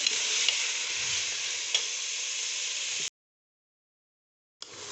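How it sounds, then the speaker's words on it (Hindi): Chickpeas, mutton and masala frying in ghee, a loud continuous close sizzle with faint stirring clicks that cuts out abruptly to silence, then resumes near the end. "अब इसके अंदर जाएंगे चने। मज़ीद हम इसको 5 मिनट भूनेंगे"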